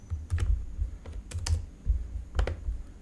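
Close typing on a computer keyboard, a run of light clicking keystrokes in uneven bursts with a soft thud beneath, no voices.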